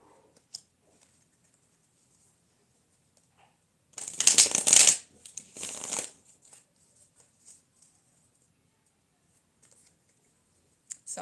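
Tarot cards shuffled on a bed: two short, crisp riffling bursts close to the microphone, separated by a brief pause, with near silence before and after.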